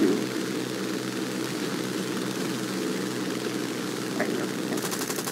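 A propeller aircraft engine in the War Thunder game drones steadily and close, a constant buzzing roar with little change, briefly joined by a faint click and a light rattle near the end.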